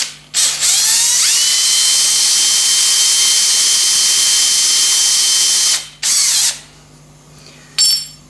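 A power drill bores a hole through metal to mount a digital iGaging scale bracket on a Bridgeport-type knee mill, running loud and steady for about five seconds, stopping, then two shorter bursts follow.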